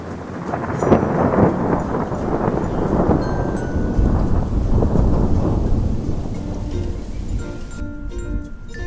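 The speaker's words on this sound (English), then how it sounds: "Thunder's such a grumbly sound." A long, deep thunder rumble rolls on over falling rain, loud and sustained, then eases toward the end.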